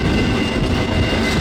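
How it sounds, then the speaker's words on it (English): A half-intermodal freight train rolls steadily along with a dense, continuous rumble and broadband rail noise, close and loud, with no voices. "I'm not sure what train I'm on"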